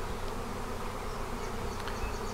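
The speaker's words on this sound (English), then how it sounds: "Just listen to all the buzzing in the air." A honey bee swarm fills the air with dense, steady buzzing, loud and continuous throughout with no talk.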